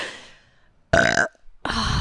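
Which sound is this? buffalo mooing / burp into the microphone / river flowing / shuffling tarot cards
burp into the microphone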